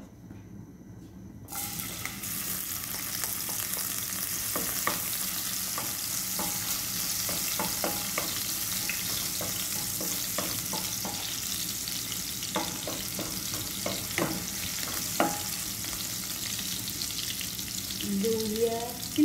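Garlic sizzles steadily in a small amount of hot oil in a pan, with occasional stirring clicks over a continuous loud hiss and no speech.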